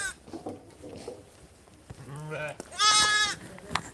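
Garole sheep on a farm give a clear, loud bleat near the end, with fainter animal calls and background noise before it.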